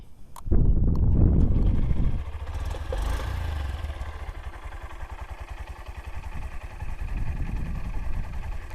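A Honda Livo 110 motorcycle engine turns over with a loud burst, then settles into a soft, steady idle that runs close by throughout.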